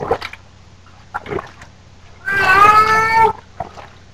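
A cat lets out one long, loud, wailing meow during a bath, with a few brief, faint sounds before and after it.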